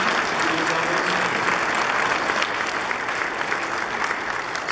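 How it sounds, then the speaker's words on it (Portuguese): A Catholic church congregation applauds for a woman renewing her vows on her consecration day, a loud steady round of clapping filling the whole stretch with faint murmuring beneath. "Então nós damos uma salva de palmas"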